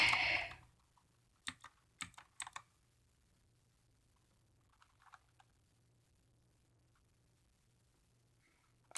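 Keys pressed on a Redragon K551 mechanical keyboard: a short cluster of crisp clicky keystrokes in a quiet room, several quick presses in a loose rhythm with a few fainter taps afterward.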